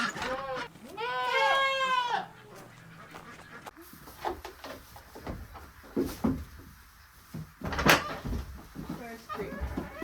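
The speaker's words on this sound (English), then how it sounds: "she's gonna help me take care of the goats this morning" Goats bleat loudly and close at the start of a farm morning, a long wavering cry followed by scattered animal calls and barnyard clatter, with someone talking over the activity.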